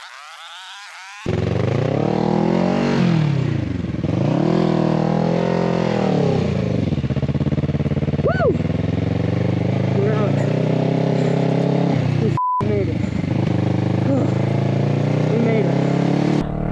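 A motorcycle fitted with Dunlop Mutant tires rides around, its engine droning and rising and falling in pitch as it revs, with a person talking over it much of the time.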